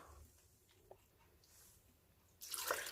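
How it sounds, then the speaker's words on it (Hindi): About two cups of water are poured into a pan of keema with sliced tomato, a brief quiet stretch giving way to a loud, splashing rush near the end. "अब इसमें हम पानी ऐड कर लेंगे"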